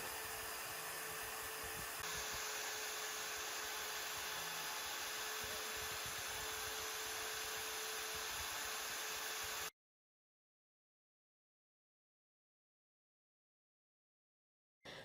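A NymoLabs NBX-5040 CNC router with a 710W spindle engraves a shallow 0.5mm pass, a steady, loud whine with a higher tone entering shortly after the start, running continuously until it cuts off abruptly into silence.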